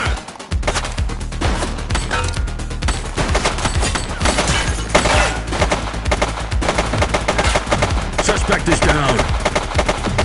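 Sustained heavy gunfire in The Precinct video game: loud rapid volleys and overlapping shots running continuously, with a brief spoken line over the barrage.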